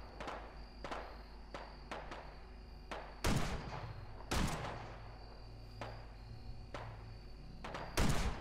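Gunfire strikes the Quarry Queen's tough carapace during a Fallout 4 battle: a string of sharp shots at irregular intervals, with a few heavier booming blasts standing out, no voices.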